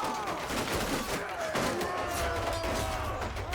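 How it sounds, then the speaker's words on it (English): Battle noise from a castle siege defence in Mount & Blade II: Bannerlord, where archers fire arrows at attackers breaking through a shield wall; a dense, continuous clatter of impacts and combat sounds stays loud throughout. "the archers are just shooting up at anybody that actually manages to get through the shield wall"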